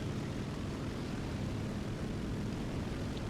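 Steady propeller engine drone of a C.200 Saetta fighter in War Thunder taking off, a continuous loud low roar without speech.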